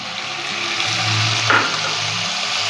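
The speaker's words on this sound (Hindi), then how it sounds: "अब इसके अंदर 100 ग्राम चिकन डालेंगे, क्यूब में कट किया हुआ।" About 100 grams of cubed chicken sizzles in a pan with lightly cooked garlic paste, a short steady frying hiss that swells briefly around the middle.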